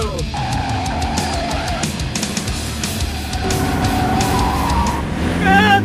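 Car tires squealing under hard driving with a revving engine, a loud continuous rough roar with shrill tire whines near the end, close and sustained.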